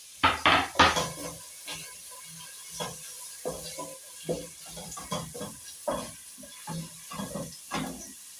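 Red onions go into a cooking pan with a few loud clattering bursts, followed by a soft sizzle and scattered stirring scrapes and clinks. No one speaks.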